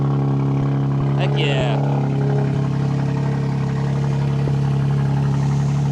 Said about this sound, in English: this is the M3 key. We're going to get a nice cold start.